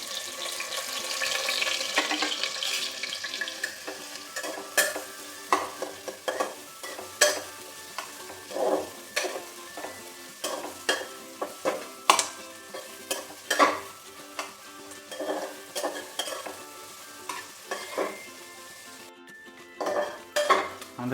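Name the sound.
chopped onions frying and being stirred in hot oil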